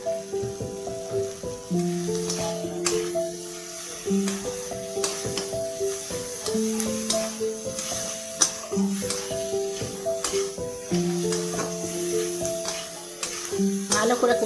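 Spices sizzling and frying in a pan for tarka dal, a steady soft hiss running throughout beneath background music and occasional clatter.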